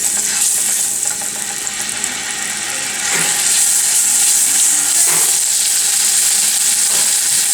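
Pork chops frying in a tablespoon of olive oil in a pan, giving a loud, steady, close hiss and sizzle with a few brief scraping and shifting noises partway through.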